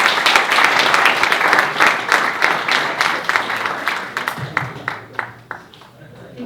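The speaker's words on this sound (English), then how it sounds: "Let's give another big round of applause to Prabhu." Dense audience applause after a devotional lecture, loud and sustained at first, then thinning into scattered claps that fade out over several seconds, with a voice faintly underneath.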